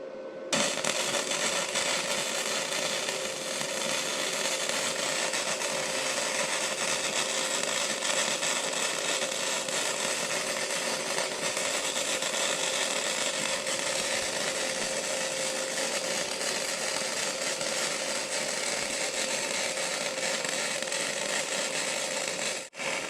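Titanium Flux 125 flux-core welder running a straight bead, a steady, loud crackling hiss that holds unbroken for over twenty seconds, with no talking.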